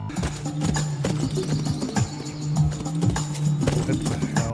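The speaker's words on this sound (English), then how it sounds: "Skeleton Man shows up on his horse and keeps teleporting around" Hooves clip-clop from a horse ridden by the title monster in the horror film Skeleton Man, a steady uneven trot of thuds heard over a droning music score, fairly close and loud.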